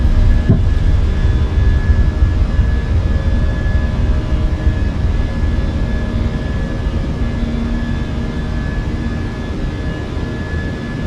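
Airliner engines roar steadily through takeoff in Microsoft Flight Simulator 2024, a loud, continuous broadband rumble with a faint high whine on top that eases very slightly toward the end.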